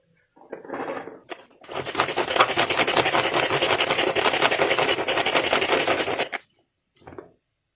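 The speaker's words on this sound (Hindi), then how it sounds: "अब हम इसको चॉपर में इसमें डालेंगे कट करके" An electric chopper whirs steadily for about five seconds as it chops peeled soya vadi, with brief handling noises just before it starts and after it stops.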